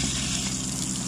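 Steady rush of water from an outdoor shower hose on a 2011 Lance 992 truck camper with the water pump running, a continuous hiss and gush with a low pump hum underneath.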